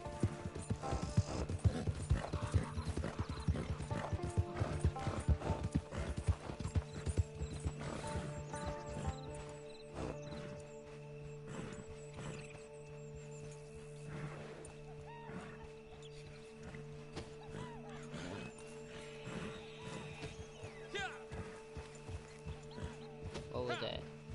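Horse in Red Dead Redemption 2 clatters with busy hoofbeats and whinnies, loud at first then easing, with people talking over it.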